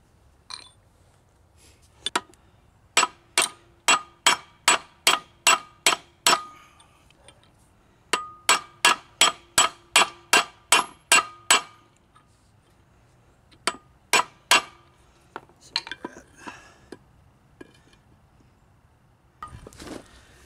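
A hammer strikes a U-joint cap on a Jeep Wrangler TJ axle, driving it through over a socket. Bursts of sharp, ringing metallic blows come in fast, even runs with short pauses between them.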